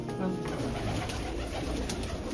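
Pet pigeons kept in a loft cooing, a soft, steady murmur of low throaty calls close by, continuous over the short span with a faint voice behind.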